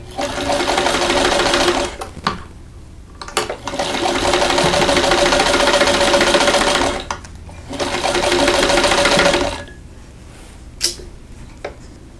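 Sewing machine stitching quilt patches together for a quilt block, running in three long, loud, steady bursts with short pauses between, close by and with no voices.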